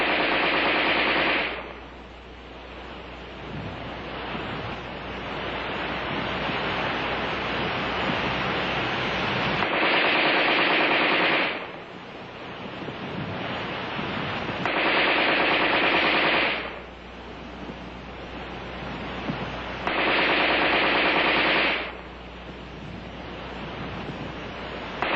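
An AR-10 rifle fires on full automatic in several long, loud bursts, each a dense roar of rapid shots lasting a few seconds, separated by short quieter gaps, with no voices.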